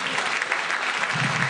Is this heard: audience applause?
yes